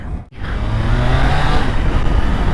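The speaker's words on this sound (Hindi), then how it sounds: "तो चलिए अभी बाइक को करते हैं स्टार्ट और चलते हैं आगे।" Triumph Tiger 660 motorcycle engine catching after a brief gap, then a steady, loud, close idle rumble that holds without speech.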